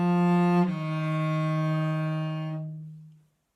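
A single cello note bowed in the stretched-back first-finger position, a rich sustained pitch ringing clearly for about three seconds on its own before tapering into silence.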